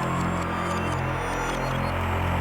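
A dark ambient synth track with downsample distortion adding grit, a dense droning buzz with a low throbbing hum, steady and loud throughout.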